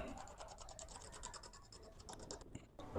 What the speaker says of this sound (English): Now I gotta cut the miter on the right side this time instead of the wrong side